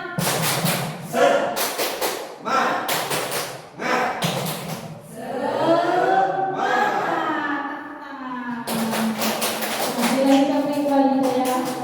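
A group of Indonesian schoolteachers perform the tepuk semangat clapping chant: loud bursts of rhythmic clapping alternate with shouted, chanted words in unison, close and energetic.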